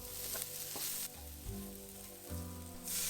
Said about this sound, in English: keep on frying the paste for a few minutes to allow the flavors to come out